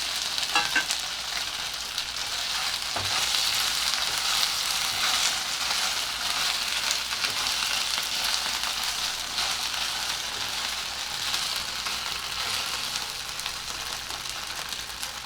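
Instant poha balls frying in oil with sesame seeds, curry leaves and two chillies: an even, continuous bubbling sizzle like light rain, with a few faint knocks early on and no talk.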